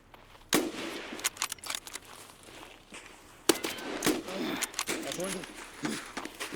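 Several sharp gunshots from a video game, scattered irregularly between bursts of speech and background noise.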